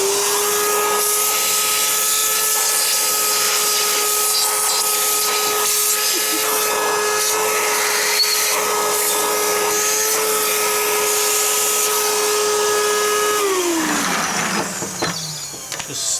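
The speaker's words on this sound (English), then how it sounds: "Can we Hoover it, or?" A vacuum cleaner sucks debris out of the front differential of a 2007 Suzuki LT-A450X quad. Its steady, loud motor whine holds for about thirteen seconds before winding down and dropping in pitch.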